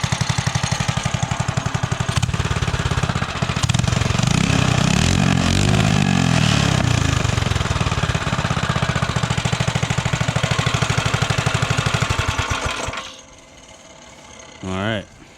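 A homemade minibike engine runs near and loud with a rough, rattling idle and some throttle surges for about thirteen seconds, then cuts out abruptly to near quiet.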